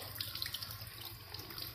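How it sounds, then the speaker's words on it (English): Water runs steadily from a home tap into a sink, a continuous close hiss of flow with faint splashes and small droplet sounds on top, and no voices. "We're gonna try the other tap."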